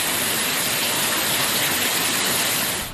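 Heavy rain pours down in Chennai, Tamil Nadu, during Cyclone Montha, a dense, steady, loud hiss with no breaks and no voices.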